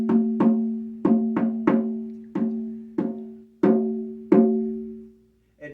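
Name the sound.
small lightweight deer hide manifestation frame drum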